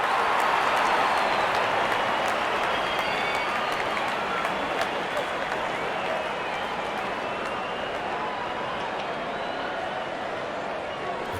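Spectators at an IPL cricket match between Sunrisers Hyderabad and Mumbai Indians applaud a boundary with loud, sustained clapping and crowd noise that slowly eases off.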